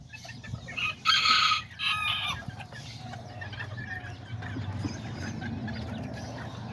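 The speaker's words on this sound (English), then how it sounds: "Look at the chickens. They're all out here now running around." Small chickens and roosters roaming outdoors, with a loud rooster crow near the start followed by steady clucking and murmuring from the flock over a low background rumble.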